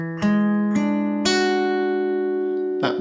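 An electric guitar strikes a sharp 9th chord in several separate strums, each ringing and sustaining cleanly before the next attack, close and alone.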